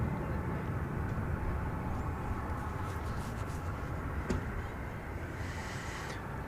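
An American Airlines Boeing 737-800 jet at DFW Airport, a steady, broad roar of engine noise that holds at constant loudness throughout with no talk over it.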